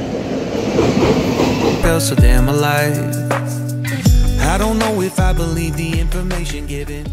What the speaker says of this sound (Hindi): तो अभी तो अपनी ट्रेन आ चुकी है, यही है अपनी ट्रेन